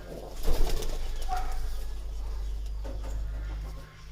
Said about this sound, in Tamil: ஆனால் உள்ளே ஒரு ஜோடி குஞ்சு இருக்குது. அந்த குஞ்சு இங்கிலீஷ் கேரியரு.